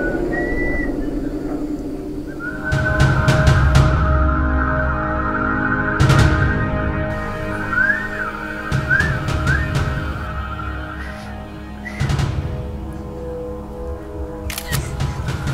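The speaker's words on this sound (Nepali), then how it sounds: "कति मिठो सुसेल हुन्छ" A person whistles a melodic tune, a thin sustained line that wavers and rises through the middle of the passage, set inside a Nepali TV drama scene over background music with occasional sharp clicks.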